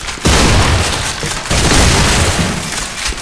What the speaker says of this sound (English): this is a double barrel pump action that lives up to the original F.E.A.R shotgun